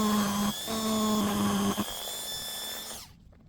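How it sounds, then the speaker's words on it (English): An impact driver loosens a badly corroded screw on a stainless steel boat railing bracket, giving a steady, close, high whirring whine for about three seconds before cutting off abruptly. "remove the bracket using an impact driver just to loosen off the very corroded screw"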